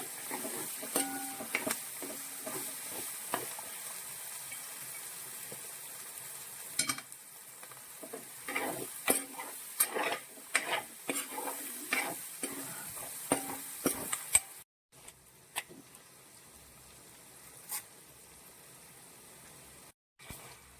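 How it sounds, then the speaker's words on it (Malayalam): Ginger and green chillies for a pickle fry in a pan, and irregular clicks and scrapes of stirring ride over a soft continuous sizzle. The sound is close and fairly quiet, with brief dropouts near the end and no talking. "ഇതെല്ലാം കൂടി നന്നായിട്ടൊന്ന് മൂപ്പിച്ചെടുക്കുവാണ്"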